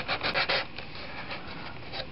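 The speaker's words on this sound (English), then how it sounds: "So now with an emery board, I'm sanding down this piece of foam that I mounted in there" An emery board sands a piece of foam mounted flush inside a cockpit wall, giving rapid, close scratchy rubbing strokes at the start that settle into a softer steady scrape.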